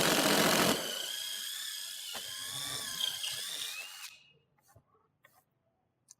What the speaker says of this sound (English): I will drill with a 3/8 drill bit and widen the holes for my hex bolts.